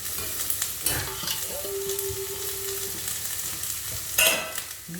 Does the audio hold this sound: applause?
no